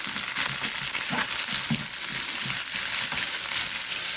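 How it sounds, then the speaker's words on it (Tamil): Curry leaves and crushed green chillies crackle and sizzle in hot oil in a pan, a steady close frying hiss broken by sharp spattering pops, with no talking. "இது கருவேப்பிலையும் போட்டுருக்கோம் பச்சை மிளகாயும் உடச்சி வர போட்டுக்கலாம் வதங்கட்டும்"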